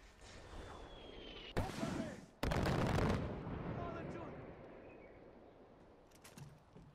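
Mortar fire in the video game Far Cry 4 lands as two heavy, booming blasts in quick succession, the second longer and rumbling, then fading into distant battlefield noise with faint voices.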